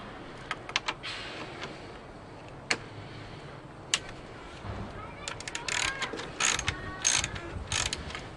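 An 8mm socket ratchet turning counterclockwise to loosen a bolt on a Mini Cooper air intake, with bursts of rapid clicking pawl ratcheting that grow busier toward the end, close up.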